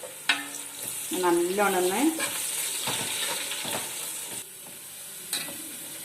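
Cinnamon, cardamom, cloves and curry leaves fry in hot ghee, a soft sizzle with stirring scrapes and clinks, while a voice speaks briefly near the start.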